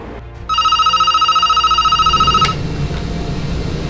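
An electronic telephone ring for a call to the rescue team in an ammonia-leak emergency drill at an industrial plant, a steady warbling tone lasting about two seconds over engine-like background hum.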